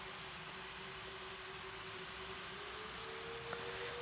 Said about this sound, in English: A Boeing FA-18 flying over the airport.